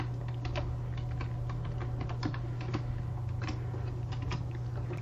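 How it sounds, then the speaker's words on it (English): Steady run of keystrokes on a computer keyboard as a password is entered on a Windows machine, clicks close and fairly quick over a constant low hum, no voices. "double click on that username and type in your password"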